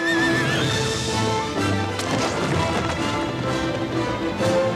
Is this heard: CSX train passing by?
no